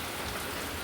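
Steady monsoon rain falls in Kerala, a dense, even hiss of drops on surfaces that holds unbroken and fairly loud from start to end.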